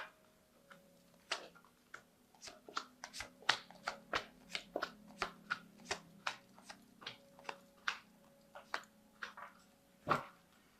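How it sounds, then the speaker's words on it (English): A run of quick, crisp card riffles and soft flicks, repeated in a steady patter close by, ending with a firmer slap as the deck is cut. "I'm going to just do a quick shuffle and cut it."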